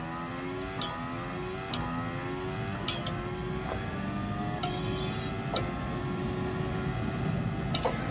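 Car engines in Gran Turismo Sport rev steadily throughout, with harsh rising and falling engine tones and a few sharp clicks over a constant buzzing drone.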